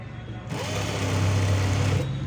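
Sewing machine edge stitching a lehenga belt, a steady fast mechanical whir that starts, runs close and loud for about a second and a half, then stops.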